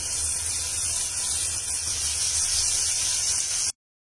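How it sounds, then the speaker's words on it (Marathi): Slices laid into hot oil in a well-heated pan, sizzling with a loud, steady hiss that runs unbroken for a few seconds, then cuts off abruptly. "तर इथे पॅन पण चांगला गरम झालाय, तर ते काप आता मी पॅन वरती ठेवते."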